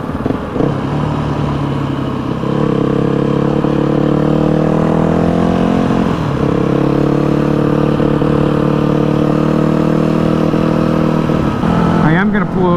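A repaired Yamaha WR250F dirt bike rides on the road, its engine droning loud and steady with close, shifting revs and a brief throttle change near the end.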